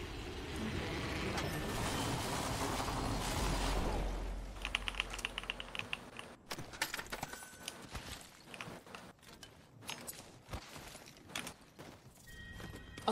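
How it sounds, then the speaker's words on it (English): Keys clatter on a computer keyboard in quick irregular bursts during an online Apex game. The typing is close and fairly faint, and it follows a stretch of steady noise. "I hope you can't hear my keyboard"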